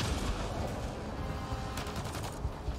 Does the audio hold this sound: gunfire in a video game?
yes